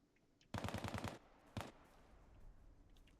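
AK rifle gunfire in the video game Bellum: a rapid burst of about seven sharp shots, then a single shot a moment later, fairly close and loud against quiet background.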